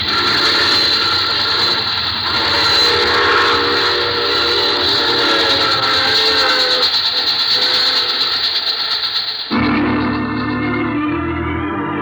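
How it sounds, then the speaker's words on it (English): A train runs on rails in an old radio drama, a loud, steady rumbling roar with a high whistle-like tone on top that cuts off abruptly near the end, leaving a lower clattering tail. "I take this same train every week at this time."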